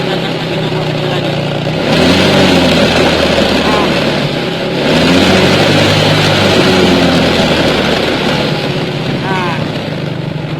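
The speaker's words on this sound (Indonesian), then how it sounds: "Kita gas lagi, coba sekali lagi." A motorcycle engine revved repeatedly while its battery charging is checked, loud close surges rising and falling in roughly three-second waves, with a voice talking over it.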